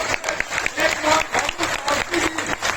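Brief scattered applause from an audience at a Diwali event in Delhi's Azadpur market, with uneven clapping under faint crowd murmur and a voice on a loudspeaker.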